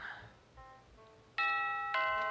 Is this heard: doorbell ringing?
yes